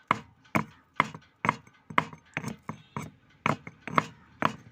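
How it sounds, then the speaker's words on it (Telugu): Garlic being pounded coarsely: about a dozen sharp, steady thuds in an even rhythm, close and fairly loud, with no talking. "వెల్లుల్లిపాయలని మనం కచ్చాపచ్చగా దంచుకోవాలి"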